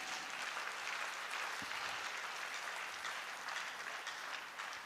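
A congregation at a Christian service applauds for Jesus Christ, a dense, continuous patter of many hands clapping, faint and somewhat distant, holding steady throughout.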